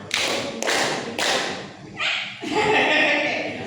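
Elderly members of a church congregation clap in unison three times, loud dense bursts of many hands, followed by a further ragged round of clapping with a voice speaking.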